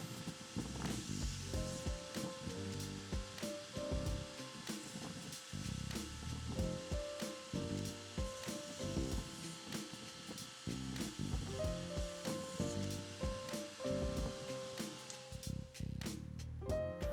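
A 2x72 belt grinder bevels the edges of a leather knife sheath, giving a steady abrasive whir with repeated scraping and rubbing bursts as the leather is pressed against the moving belt, close and continuous.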